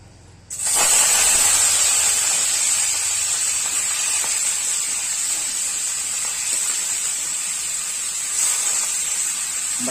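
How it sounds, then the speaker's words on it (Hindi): Mutton hitting hot mustard oil on a clay stove, bursting into a loud, steady frying hiss that holds close and even for about nine seconds. "मटन को हम पहले तल लेंगे।"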